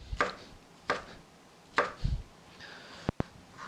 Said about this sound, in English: So I'm going to go ahead and just chop all these peaches up